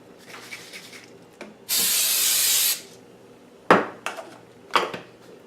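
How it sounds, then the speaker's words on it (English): Cooking spray hisses in one loud, steady burst of about a second onto a foil-lined baking dish, followed by a few crinkly rustles and taps of the foil. "I'm going to add a little bit of cooking spray, just so it won't stick"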